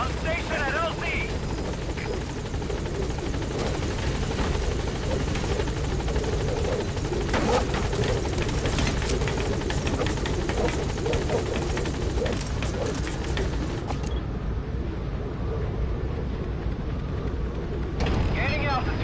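Support helicopter arriving at a landing zone in Metal Gear Solid 5, a loud steady rotor drone and engine roar filling the scene throughout, with voices talking over it.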